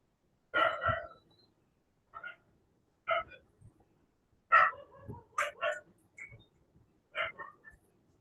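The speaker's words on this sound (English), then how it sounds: "There's a barking dog." A dog barks in short separate bursts, about seven sharp barks spaced irregularly over several seconds, fairly distant and alone against a quiet room.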